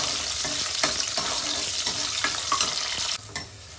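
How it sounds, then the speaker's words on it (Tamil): Small onions sautéing with dried chillies and curry leaves for a chicken curry, a continuous crackling sizzle with a spoon repeatedly stirring and tapping the pan, moderately close, no talking. "சின்ன வெங்காயம் வதங்கணும் நல்லா."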